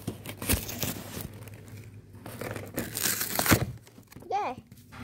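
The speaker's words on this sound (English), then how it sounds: "I'm gonna rip it here." Birthday present packaging is torn and crinkled open up close, with bursts of rustling, crackling paper and plastic in uneven spurts, and a voice speaking briefly over it.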